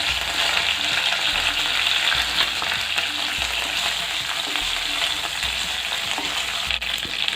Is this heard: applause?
no